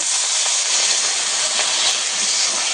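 Turmeric, chili and coriander powder with a splash of water hitting hot oil in a pan for a pomfret fish curry, giving a loud, steady broadband hiss that holds without break throughout.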